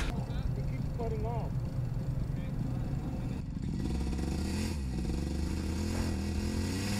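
A go-kart engine runs badly with a rough, uneven buzzing drone that continues loudly throughout the seven seconds, its pitch wavering and sputtering.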